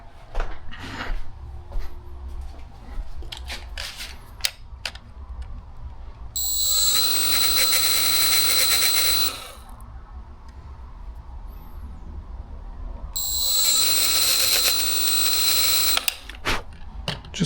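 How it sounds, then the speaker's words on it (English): Small electrical terminals being sanded for a fuel pump control upgrade, two bursts of buzzing rotary power tool a few seconds each, with light handling clicks and rustles in between. "so I gotta sand this down just a little bit."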